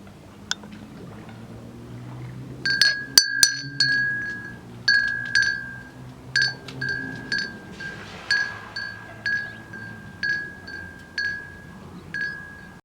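Bright glass clinks from hanging glass pendants on a garden ornament ring out repeatedly in irregular taps, close and clear, each with a short shimmering tail over a low background hum.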